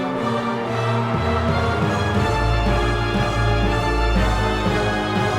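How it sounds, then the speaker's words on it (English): Orchestral soundtrack from Hollow Knight plays loudly and continuously, with a deep sustained low drone swelling in after a couple of seconds; the Radiance's scream is said to sit in the background, blended into the dense music rather than standing apart. "I think you can also hear the Radiance scream in the background."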